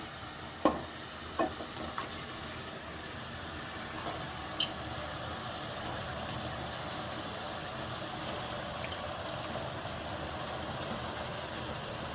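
Tripe (boti) dropped into fried masala for a boti curry, giving a few stirring knocks early, then a steady low sizzle under a faint background hum.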